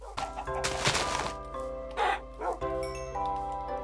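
Dogs in the block-building game Minecraft bark and yip in short bursts, with game music and tones running underneath and a brief thump partway through.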